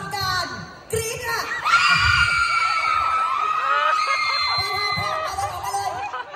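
A team of fans shrieks loudly to signal an answer in a party game at a fan event, a sustained chorus of high screams and shouting from a crowd.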